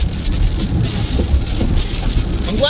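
Rain falls steadily outside a car with the window cracked slightly open, giving a constant close hiss of drops on the surface with no clear breaks.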